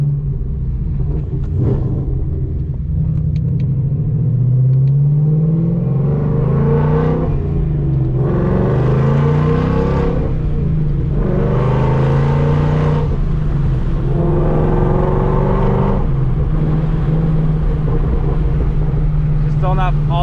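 Whipple-supercharged Mustang GT with a build aimed at 800 whp, driven while not fully warmed up: a loud, deep engine rumble swells in several long revving surges, with wind buffeting the microphone throughout.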